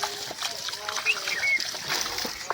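Water splashing and flowing close by outdoors, an irregular wet splatter running continuously with a few louder bursts, bird calls and voices faintly in the background.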